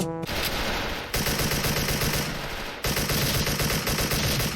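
An AK74 rifle in the shooter game Special Force fires long, loud automatic bursts, with two short breaks between continuous strings of rapid shots.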